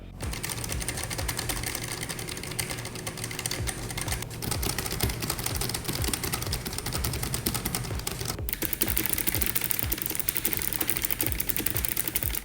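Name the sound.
clicky blue-switch mechanical keyboard typing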